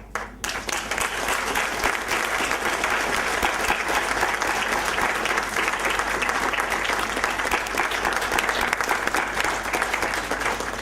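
Mourners at a memorial celebration of a father's life break into sustained applause, a dense, even wash of clapping that starts abruptly and holds steady with a low hum underneath.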